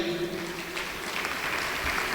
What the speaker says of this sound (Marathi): त्या सगळ्यांसाठीच एकदा जोरदार आपण टाळ्या वाजवूया